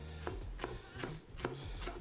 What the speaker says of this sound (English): I'm going to show you how to chop some vegetables using a serrated knife